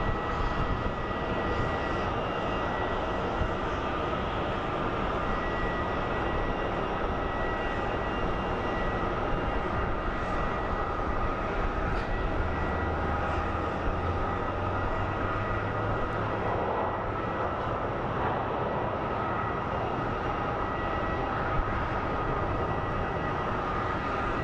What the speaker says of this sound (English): So we have Mesa Airlines CRJ coming in for the landing.